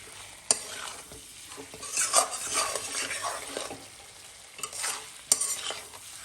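Sizzling of chicken frying in a pan with swells of noise as it is stirred, plus a few sharp clinks of a utensil against metal.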